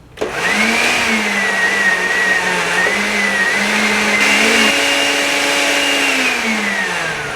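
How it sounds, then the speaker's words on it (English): A stand mixer whirs steadily, close and loud, beating sugar and other ingredients for a Danish cinnamon coffee cake, its motor pitch shifting slightly partway through as the load changes. "now I want to start the mixer here"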